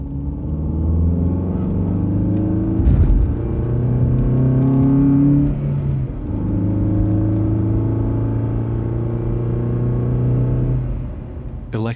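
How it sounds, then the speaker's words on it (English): From inside a car, a steady engine drone accelerates with rising harmonic tones, interrupted by a sharp thump around three seconds in as the car drives over a bump, then settles back into a constant rumbling hum. "Car accelerate drive bump inside.wave."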